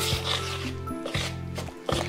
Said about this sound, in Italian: Con un cucchiaio mescoliamo